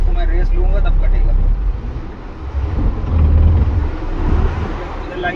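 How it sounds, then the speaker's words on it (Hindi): A Tata Prima BS6 truck engine, with a suspected steering pump fault, is revved while idling. A deep rumble swells in the middle, with someone talking over it. "अब इसको मैं रेस लूंगा तब कटेगा।"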